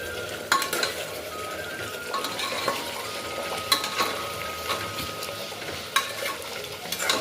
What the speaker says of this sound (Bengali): এখানে মাটনটাকে কষিয়ে নেবো ভালো করে